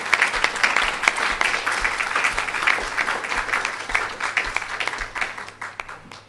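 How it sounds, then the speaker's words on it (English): Steady, even applause from a lecture audience for three gentlemen, a dense wash of many hands clapping at moderate loudness, continuing without speech. "to instruct you to applaud again for these 3"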